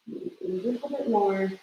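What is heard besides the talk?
bird calling outside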